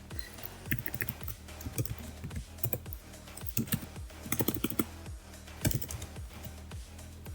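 Rapid typing on a computer keyboard in a Linux terminal, a steady patter of close key clicks with occasional louder strikes, no voices.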